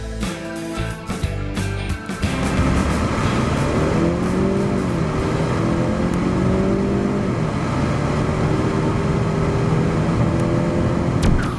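A 2013 Ford Fusion Titanium with a turbo engine cruises right after a full-throttle run. A few knocks and bumps come first, then the engine settles into a steady, moderately loud drone with a gently rising and falling tone.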